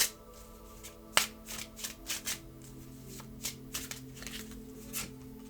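Tarot cards being shuffled in an irregular run of crisp riffling bursts and soft slaps, close and fairly quiet, with no talking.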